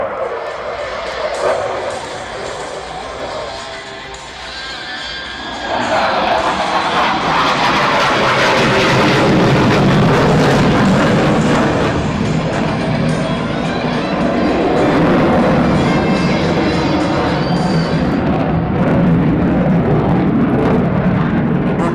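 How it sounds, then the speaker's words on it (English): A Sukhoi Su-30 fighter jet flying a tail slide at the Aero India airshow, its engines swelling from a distant whine into a loud, broad roar that lingers, with an announcer talking over it. "So keep looking at the Sukhoi 30."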